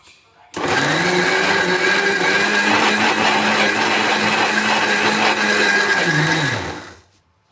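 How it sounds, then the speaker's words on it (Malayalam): A mixer grinder jar whirs loudly and steadily, blending wheat flour, semolina, rice flour and cool jaggery syrup into a batter for neyyappam; the motor starts abruptly, holds a constant pitch for about six seconds, then winds down. "ഒരു മിക്സിയുടെ ജാർ എടുത്ത് മിക്സ് ചെയ്ത് വെച്ച ഗോതമ്പ് പൊടിയും റവയും അരിപ്പൊടിയും തണുത്ത ശർക്കര പാനിയും നമുക്ക് മിക്സിയുടെ ജാറിലിട്ട് അടിച്ചെടുക്കാം"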